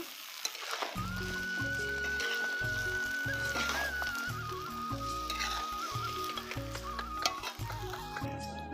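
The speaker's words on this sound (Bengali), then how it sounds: "সবজি ভালো করে নেড়ে নেব।" Vegetables stirred in a hot frying pan, a continuous sizzle with soft scraping and squishing strokes over a low steady hum and a faint whistling tone, no talking.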